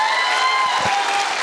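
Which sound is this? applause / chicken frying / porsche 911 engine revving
applause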